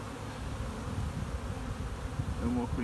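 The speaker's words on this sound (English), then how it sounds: "Plenty of bees to look after it." Honey bees buzz steadily and close around a frame of brood during a hive inspection, a soft continuous hum with a few brief higher drones near the end.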